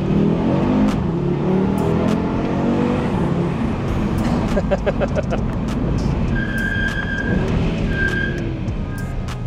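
Audi RS3 8Y engine revving through a flyby, growing louder then receding, with crackles and faint brake squeal; a voice talks over part of it.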